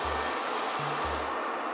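A Verefa V60 Pro robot vacuum running under remote control gives a constant close, airy suction whoosh, with low motor hums switching on and off as it is driven.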